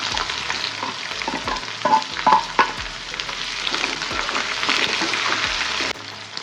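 Three medium-sized large onions frying with dried red chillies and urad dal, a steady close sizzle broken by scraping stir strokes near the middle, easing slightly at the end.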